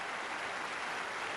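Crowd applause in a tennis stadium after a winning return in the 2006 Berlin women's match between Justine Henin and Amélie Mauresmo, a steady dense wash of clapping with no voices over it.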